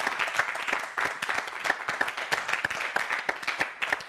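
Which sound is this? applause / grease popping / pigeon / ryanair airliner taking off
applause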